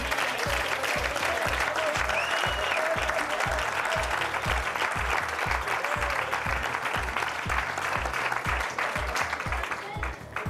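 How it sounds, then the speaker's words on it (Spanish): Sustained studio audience applause on a Spanish TV game show, dense and loud throughout, with a steady rhythmic beat thumping underneath and faint voices mixed in. "¿Podéis aplaudirla, por favor?"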